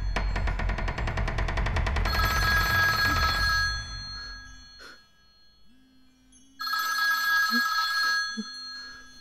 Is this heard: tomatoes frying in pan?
no